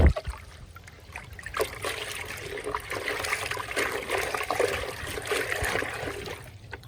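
Water runs and splashes while feed buckets are rinsed out on a farm after a storm, a steady close trickle and slosh with a few knocks of the buckets and no speech.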